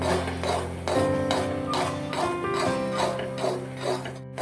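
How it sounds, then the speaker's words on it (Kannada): A metal ladle pours oil over a pan of Mysore pak, with repeated clinks and clanks of metal on metal and steady tonal ringing, close and moderately loud, with no talking. "ಸೌಟದಿಂದ ಎಣ್ಣೆ ಹಾಕುತ್ತಿದ್ದೇನೆ."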